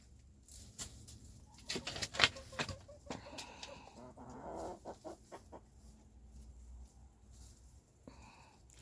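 Cochin chickens cluck in short, uneven bursts close by, with occasional sharper squawks and quieter rustling between calls.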